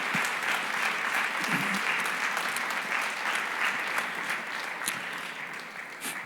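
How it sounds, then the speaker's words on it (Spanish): A church congregation applauds for the Lord with strong, continuous clapping that fills the whole stretch, tapering only a little toward the end. "Dale un aplauso al Señor, porque Él se lo merece"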